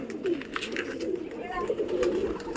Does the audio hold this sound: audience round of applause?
no